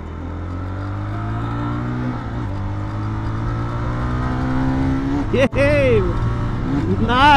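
Jawa 42 FJ motorcycle cruising in sixth gear, a loud, steady engine drone with rushing wind, heard from the rider's position, with a brief rise in pitch near the end.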